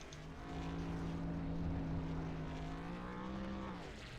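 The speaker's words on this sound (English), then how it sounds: "Let's watch these celebratory donuts." Pickup trucks spinning celebratory donuts in a truck racing video game at Kansas, a steady droning engine roar with held harmonic tones that rise slightly and dip near the end, continuous and fairly loud with no talking.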